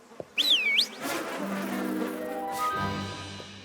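Bees buzz loudly in a My Little Pony: Friendship Is Magic cartoon scene, a droning swarm hum that swells after a quick whooshing cartoon effect and holds steady to the end.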